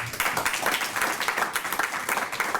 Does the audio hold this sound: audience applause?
yes